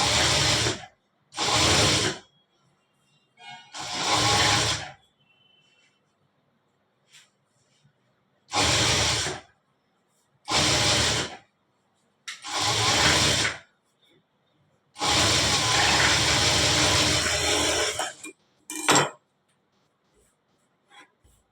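A sewing machine double-stitches a blouse for an older woman in bursts of rapid mechanical whirring, several short runs and one longer run, with quiet pauses between them.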